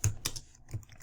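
Keys clack on a computer keyboard in a quick, close burst of a few sharp taps with brief gaps.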